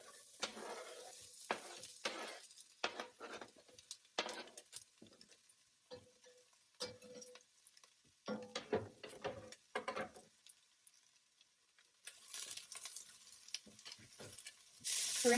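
Onions and garlic dropped into a well-heated pot and sizzling, with faint frying hiss broken by clatter and scraping of stirring, quiet and close, ending in a louder burst of sizzle.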